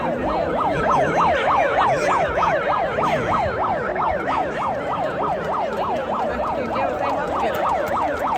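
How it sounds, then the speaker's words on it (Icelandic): A police siren at a street protest wails in fast, repeating up-and-down sweeps, loud and steady for the whole stretch with little else audible. "Ég velti fyrir mig hvort lögreglan ætlar að aðstoða okkur með sírenur."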